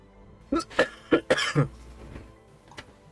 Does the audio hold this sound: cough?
yes